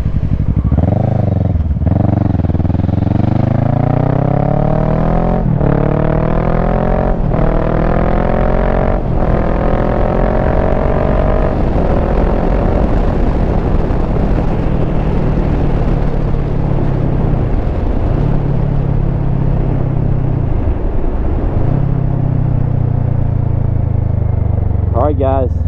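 Kawasaki Versys 650 motorcycle riding on the road with a modified front tire, a loud steady engine drone that rises and falls through gear changes, with wind rush throughout and a voice talking over it.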